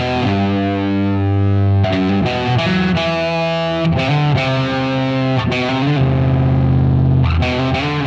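A distorted, band-style rock passage in a bright major key, loud and full, with sustained chords shifting every second or so and no voices.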